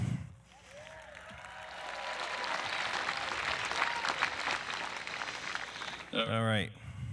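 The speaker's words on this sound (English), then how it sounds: "How about a round of applause for the weather?" Crowd at a 2021 STEM academy commencement claps in a sustained, dense round of applause that swells and holds steady, with a voice speaking briefly near the end.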